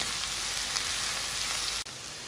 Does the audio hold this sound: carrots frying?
yes